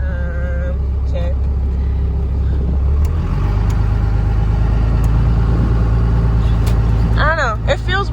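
A second-generation Chevrolet with an automatic transmission driving, its engine humming steadily and loudly from inside the cabin, the pitch shifting slightly partway through, while people talk over the engine noise.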